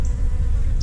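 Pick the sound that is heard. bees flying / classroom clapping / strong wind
bees flying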